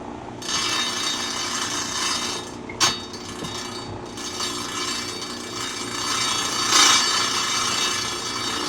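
A trim saw cuts through a piece of hard agate clamped in a vise, giving a steady gritty grinding and rubbing that runs through the clip, with a sharp knock near the three-second mark and a swell later on.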